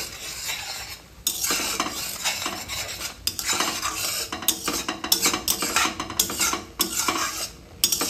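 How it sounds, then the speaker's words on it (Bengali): Chicken scraps dry-fried with spices in a pan without oil, stirred with a metal utensil that scrapes and clatters in quick irregular strokes over a light sizzle. "এটা তেল ছাড়াই ভাজা।"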